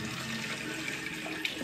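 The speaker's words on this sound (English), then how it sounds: "I'm pulling it up with tap water." Tap water runs in a steady, close hiss from a faucet, unbroken for the whole stretch, with no voices.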